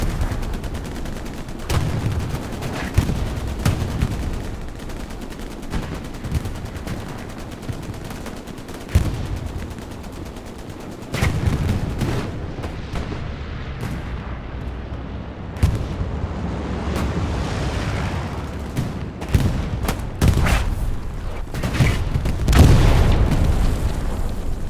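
Battle in the World War II shooter Hell Let Loose during a competitive match: scattered gunshots, bursts of machine-gun fire and heavy booms of artillery and explosions, some near and some distant, continuing throughout.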